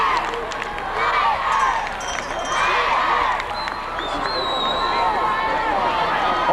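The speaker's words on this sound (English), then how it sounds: "the Turtle Lake fans are really whooping it up here a little bit now" Turtle Lake fans whooping and cheering in the stands at a 1988 Division 6 state championship high school football game against Oakfield, a broad crowd roar that stays fairly steady throughout, heard from a distance.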